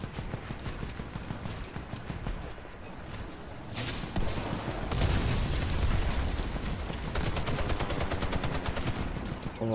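Gunfire in the video game WarFace: dense bursts of automatic weapon fire crack and rattle close by, with short pauses between volleys and heavier, louder shooting toward the middle, over no clear talk.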